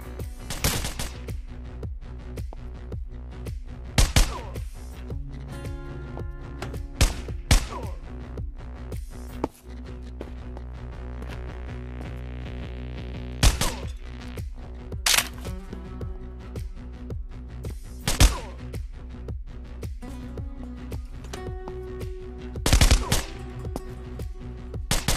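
Rapid gunfire bursts in the mobile FPS shooter game Kuboom 3D, sharp loud shots in repeated clusters of up to three over steady in-game background sound, no talking.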